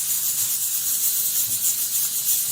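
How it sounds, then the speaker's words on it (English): Steam hisses steadily from the handle of a leaking Bella 5-quart stovetop pressure cooker, a continuous broadband rush with no voices. "That's where all the steam is coming from, but not anywhere else. It's just right where the handle is."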